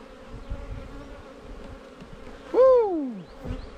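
Honeybees buzzing around an open beehive during an inspection, a close, continuous hum with one loud rising-and-falling pass of a single bee flying near.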